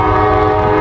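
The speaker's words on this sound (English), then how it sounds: "It is the CSX train. That is the one that is moving." A CSX freight train moving, heard as a loud, steady rumble with sustained tonal hum and no breaks, close by.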